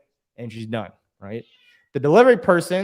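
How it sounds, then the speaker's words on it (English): A house cat meows a few short times close by, the calls mixed in with and between a person talking. "as my cat decides to interrupt"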